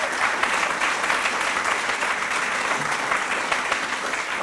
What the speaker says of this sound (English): can we just give United Way another round of applause for what they are doing?